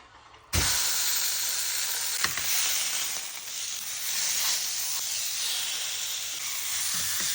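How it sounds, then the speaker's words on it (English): A seasoned rib of beef hits a hot pan with a sudden loud sizzle, then keeps up a steady hissing fry close by, with a couple of brief clicks along the way. "Time to give it a sear."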